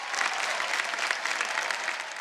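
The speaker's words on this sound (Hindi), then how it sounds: "एक बार विदिप्ता के लिए जोरदार तालियां हो जाए" A studio audience on Indian Idol Season 13, a televised singing show, bursts into loud, dense applause, with bright, continuous clapping from many hands for the full stretch.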